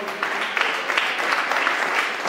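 Church congregation at an evening service in Colombia applauding, a steady wash of many hands clapping together at moderate loudness, with no speech over it.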